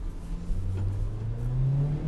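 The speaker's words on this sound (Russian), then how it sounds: "Чуть больше газа, но аккуратненько хочется въехать." A JAC T6 pickup's engine is revved gently in first gear with low range engaged while easing over off-road terrain, a close, steady drone that rises slowly in pitch over two seconds with no talking.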